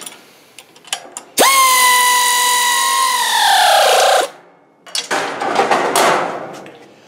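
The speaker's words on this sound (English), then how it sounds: "I'm just going to go ahead and tighten these ones down" A power tool tightens bolts while a Yutrax TX158 ATV utility trailer is being assembled. A brief clunk comes first, then a loud whirring burst of about three seconds whose pitch slowly drops, followed by scattered rattling clanks of parts and tools.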